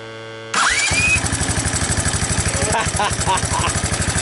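A 1984 Honda ATC 200ES three-wheeler running on old gas with the choke on catches after a short starter whir and then settles into a loud, close, steady chugging idle.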